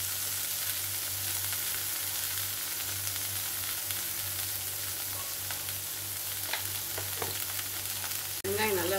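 Onion and green chilli sauté in a hot pan with a soft, even sizzle that runs unbroken, broken by a single sharp knock near the end.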